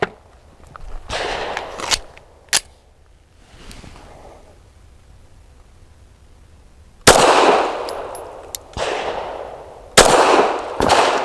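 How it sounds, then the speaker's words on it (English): A Springfield Armory Prodigy pistol fires Remington HTP 147 grain 9mm jacketed hollow point rounds straight out of the box, sharp single shots spaced irregularly with quiet gaps and a cluster of loud reports near the end. "we are shooting this gun straight out of the box. You have seen every round fired through this gun."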